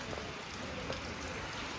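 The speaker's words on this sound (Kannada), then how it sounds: "ಮಳೆ ಸ್ವಲ್ಪ ಬರ್ತಿದೆ" Light rain patters softly and evenly on a road, a faint steady hiss with no other sounds.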